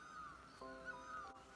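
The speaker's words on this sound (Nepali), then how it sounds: "चराहरू कराइरहेको छ," Crows cawing in a forest, a few harsh calls sounding at moderate distance over a quiet, steady woodland background.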